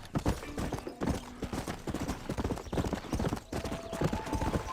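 A horse gallops in the video game GunSlinger's Odyssey, its hooves clip-clopping in a fast, steady rhythm throughout, close and fairly loud with other faint game sounds mixed in.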